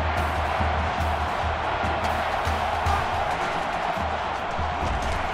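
A college football stadium crowd at a Pittsburgh versus Alabama game keeps up a steady, dense roar with a low rumble underneath, sounding distant and unbroken throughout.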